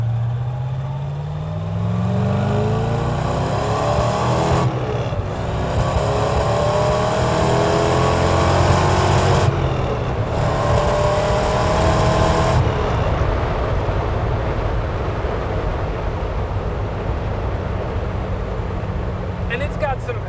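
A 1966 Chevrolet Corvette Stingray with a 427 big-block V8 being driven, its engine droning and rising through gears as it accelerates, a continuous loud rumble heard from inside the car with people talking over it.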